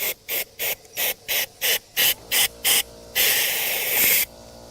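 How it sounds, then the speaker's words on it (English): A nozzle sprays in about nine short, regular bursts, then one longer continuous hiss, while cleaning out the roof rail of a Ford Edge with a panoramic vista roof. The sound is close and loud, with no talking. "We're going to run this nozzle up through the rail here."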